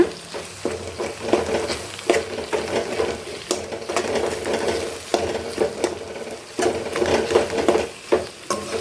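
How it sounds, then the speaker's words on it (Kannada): Ground masala paste frying in oil for an Iyangar-style brinjal dish, with steady close sizzling and repeated scraping and stirring strokes of a spoon against the pan throughout. "ರುಬ್ಬಿರೋ ಮಸಾಲಾನ ಎಣ್ಣೆಗೆ ಇದ್ದೀನಿ ನೋಡಿ ಇದೇ ಎಣ್ಣೆಲೆ ಒಂದು ಸಾರಿ ಫ್ರೈ ಮಾಡ್ಕೊಂಬಿಡೋಣ"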